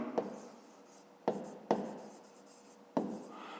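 A pen writes a maths problem on paper with four short, separate strokes of scratching and rubbing, each starting with a light tap. The strokes are quiet, close and come alone with pauses between them.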